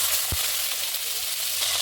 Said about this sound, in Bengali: এখন কড়াইতে অল্প তেল দিয়ে দিলাম কালো জিরে ফোড়ন, দিয়ে দিলাম সাদা জিরে, এখন দিলাম এলাচি দারচিনি।